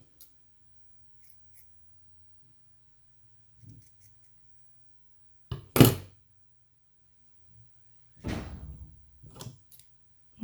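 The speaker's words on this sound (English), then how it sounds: "It's very windy outside and it's just blowing some of the doors shut" Doors blown shut by strong wind slam indoors in two loud, sharp bangs separated by a few seconds, with quieter knocks and rattles around them in an otherwise quiet room.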